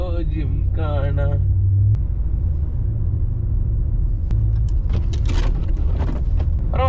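A truck in four-wheel drive crawls along a snowy road, giving a loud, steady low rumble throughout while someone talks over it in bursts.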